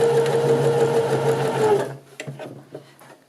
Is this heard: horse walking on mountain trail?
no